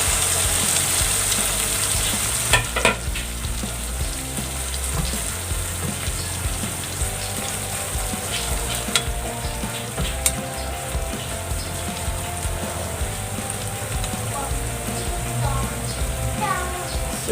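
A vegetable egg omelette fries in a pan with a continuous close sizzle and a few clinks and scrapes of a utensil, all under a steady hiss.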